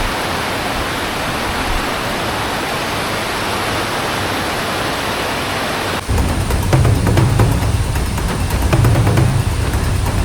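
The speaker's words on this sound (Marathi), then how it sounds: "जबरदस्त असा पाण्याचा फ्लो आहे इथून सरळ पाणी खाली चाललं आहे" A forest stream near Badlapur in the rainy season rushes hard with a loud, steady roar of flowing water that shifts to a rougher, churning sound partway through.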